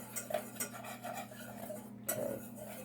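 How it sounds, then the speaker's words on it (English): A whisk works through peach buckle batter in a bowl, with light, repeated metal clinks and scrapes against the sides in a loose rhythm, close by and fairly quiet. "And we take our whisk. And we'll whisk all that together."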